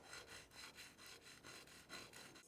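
A steel chisel rubbed back and forth on a sharpening stone in steady, even strokes, a close rasping scrape repeating about twice a second with no voices.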